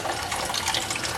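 Coolant drains from the radiator of a Foxbody Mustang during a turbo install, a steady close splashing trickle of liquid that holds even throughout, with no talking.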